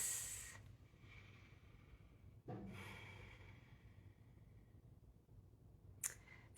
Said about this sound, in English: Settling our nervous systems with deep, even inhales and exhales.